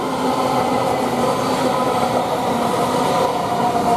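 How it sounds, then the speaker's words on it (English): A Great Western Railway Class 800 train, unit 800-027, runs through Didcot Parkway station, giving a loud, steady rumble and whine of wheels and traction that fills the whole stretch without a break. "Now we should get some more Great Western Railway service, which is from London Paddington to Connemara, and it's 800-027"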